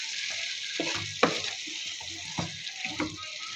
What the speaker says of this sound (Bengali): এখন দিয়ে দিব সিদ্ধ করে রাখা লতি।